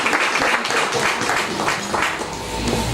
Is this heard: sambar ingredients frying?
no